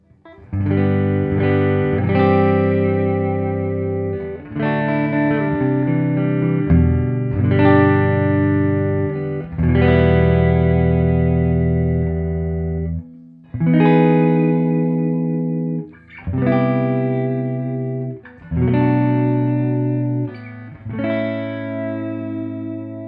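An electric guitar is played through a 1965 Fender Vibrolux Reverb amp with a touch of reverb, ringing chords and notes in phrases separated by brief pauses, clean and fairly loud.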